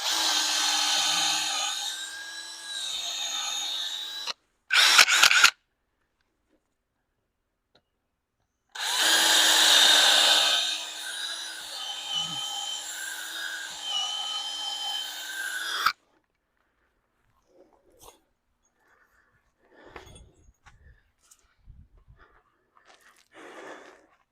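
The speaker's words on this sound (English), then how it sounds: "Go ahead and drill our pilot holes in" Power drill boring pilot holes into a swing set frame, two loud bursts of whirring drilling separated by pauses, with faint handling clicks and rustles afterward.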